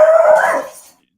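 An excited dog lets out a single loud, drawn-out howling bark close by that trails off after under a second, followed by silence.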